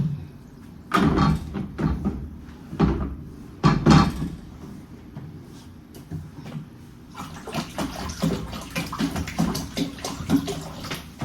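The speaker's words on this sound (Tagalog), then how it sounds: "lalagyan ko lang ng mainit na tubig" Hot water running into a tub for a bath, with splashing and clunks of handling at first, then a steady busy stream of water that continues to the end.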